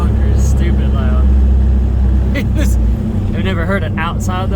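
Loud car exhaust rumbles with a booming, reverberant low end inside a tunnel while voices talk over it.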